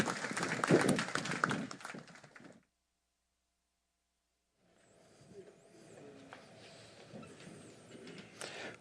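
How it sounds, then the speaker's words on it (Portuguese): An auditorium audience at a philosophy talk in Campinas claps in welcome, a dense burst of applause that fades into silence before light room noise returns. "Um aplauso de boas-vindas."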